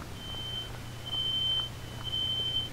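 A smoke alarm sounding in a home, three long shrill tones spaced about a second apart over a low steady hum, coming through from a distance with no talking.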